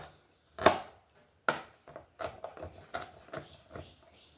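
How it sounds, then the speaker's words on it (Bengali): Six garlic cloves are finely chopped with a knife on a board, giving a run of close, crisp, irregular taps and thunks, a few louder strikes, then quicker lighter chops toward the end. No one talks. "আমি এখানে 6 কোয়া রসুন নিয়েছি, রসুনগুলো কুচি কুচি করে নেব।"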